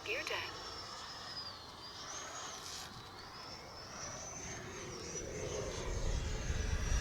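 An FMS 80mm F-86 Sabre electric ducted fan model jet flies past with a steady high-pitched whine that slowly shifts in pitch, over wind noise and outdoor rumble, swelling louder toward the end.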